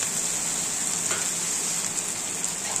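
Ginger-cumin spice paste frying in oil in a pan, with a steady, close, soft sizzle and crackle and a faint stirring scrape now and then, with no talking.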